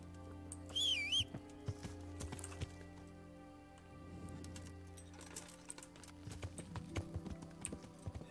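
Rhythmic hoof clip-clops of a horse in Kingdom Come: Deliverance tap along over a soft humming background, with a brief chirpy tone early on and scattered clicks.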